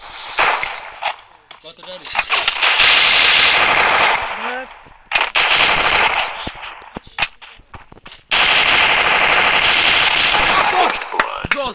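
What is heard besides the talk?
machine gun fire in a video game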